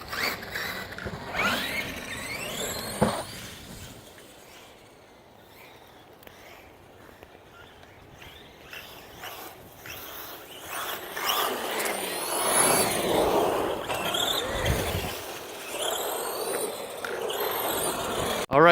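Two stock 1/10-scale electric RC monster trucks, a Redcat MT10-E and an Arrma Granite 4x4 on 2S LiPos, whine and rattle as they drive, their motors rising and fading with distance, louder again near the end.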